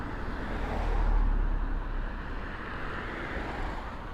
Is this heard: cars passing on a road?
yes